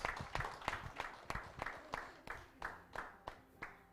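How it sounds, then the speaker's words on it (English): An audience claps at an AI meetup, a small group producing a steady run of distinct, evenly spaced claps at moderate volume that slowly fade, without voices over them. "Please help me clap for my Oga, please."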